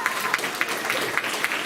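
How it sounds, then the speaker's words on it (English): A school audience at a fourth-grade awards ceremony claps for a top math student. The applause is a steady, moderately close patter of many hands, with a few sharper claps standing out, and no voices over it. "she deserves a round of applause, that's for sure"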